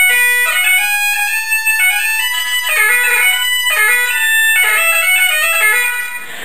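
A bagpipe chanter sounds loud and steady with a reed just adjusted on a mandrel, playing a run of sustained, stepping notes over a continuous drone-like tone for about six seconds.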